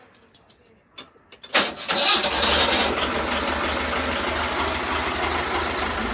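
A few clicks and a starter crank, then a car engine catches and settles into a steady, close idle.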